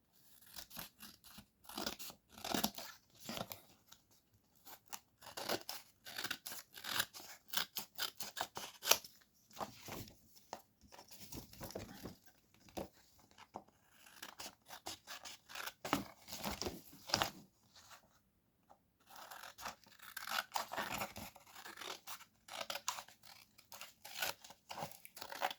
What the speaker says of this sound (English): and again we'll just cut round again.